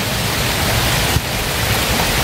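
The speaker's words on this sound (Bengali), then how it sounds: "এই দেখো দেখতে পাচ্ছ কি জোরসে বৃষ্টি হচ্ছে" Heavy rain pours down outdoors in a dense, steady hiss that fills the whole clip close by, with no voices.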